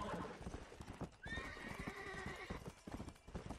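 In the Red Dead game, a horse's hooves clip-clop at a steady pace and the horse lets out a clear neigh partway through, heard close up.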